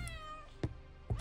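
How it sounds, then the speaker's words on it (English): A cat meows in a horror video game: an opening mew, then two short, close meows near the end, with quiet game ambience between them. "Very cute cat."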